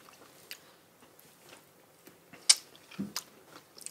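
Someone bites into soft, creamy ripe durian flesh with a seed in the middle, giving a few quiet, scattered wet chewing sounds and one sharper crunch-like snap, close up with no talking.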